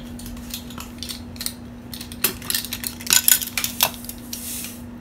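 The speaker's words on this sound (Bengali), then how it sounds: "এক চামচ দিয়ে দিচ্ছি চার ভাগের এক ভাগ ওই মেজারমেন্ট চামচের বেকিং সোডা" A metal measuring spoon adds baking soda to jackfruit pitha batter, clinking and tapping against a bowl in a scatter of close, bright metallic knocks that cluster toward the middle.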